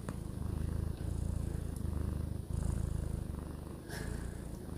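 A cat purring close by, a loud steady rumbling purr in regular breathing cycles, heard alone without talk.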